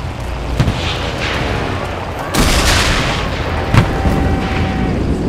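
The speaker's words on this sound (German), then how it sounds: "Die Artillerie!" Artillery shells explode in the video game Enlisted during an airfield battle, a heavy boom landing midway with another sharp blast after it, over a steady rumble of battlefield noise.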